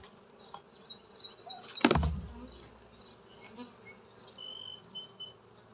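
Honey bees buzz around open hives during a farm inspection, a continuous close drone with individual bees whining past, and one loud thump partway through.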